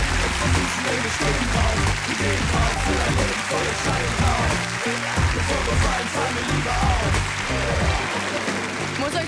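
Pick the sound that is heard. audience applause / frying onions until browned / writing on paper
audience applause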